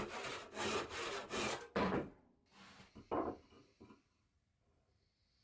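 Wooden parts for a low elliptical table being cut to length with a handsaw in a workshop: several close, rasping strokes in steady rhythm, then pauses with a few shorter strokes and light knocks of wood.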